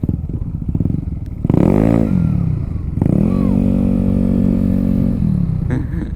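A dual-sport motorcycle fitted with Corsa Cross S tires rides off-road. The engine revs up loudly and close in two bursts, with short clattering bumps from the rough ground between them.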